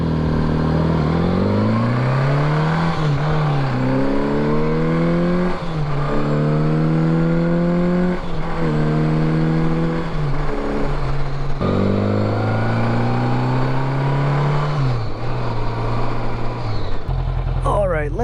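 A 1981 Honda Goldwing GL1100 motorcycle is ridden, its engine rising and falling in pitch through repeated gear changes, loud and close, with wind noise and a voice over it at times.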